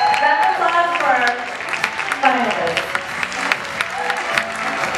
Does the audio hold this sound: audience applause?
yes